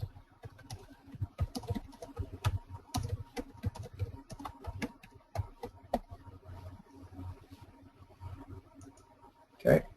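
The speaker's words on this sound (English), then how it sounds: "I go ahead and type my note" Typing on a computer keyboard, a steady run of close, quick key clicks with uneven rhythm, followed by a sharper, louder burst of clatter at the very end.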